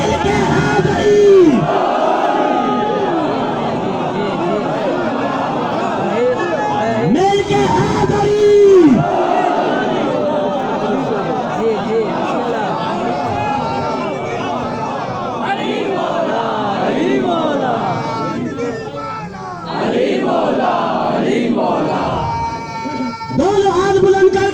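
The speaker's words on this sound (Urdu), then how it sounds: "مل کے حیدری" Majlis gathering where the crowd chants together in loud, repeated collective shouts, with bursts of cheering and a speaker's voice in between, swelling and dipping through the passage.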